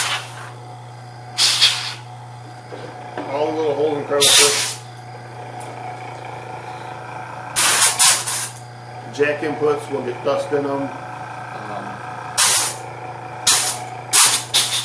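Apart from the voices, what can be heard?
spraying dust out of a power amplifier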